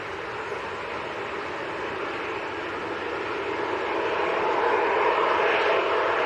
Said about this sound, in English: Aer Lingus from Dublin on short finals will swing it round.